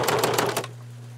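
A sewing machine runs briefly, stitching fabric in a quick, rhythmic burst of mechanical clatter lasting about half a second, then stops, leaving a low steady hum.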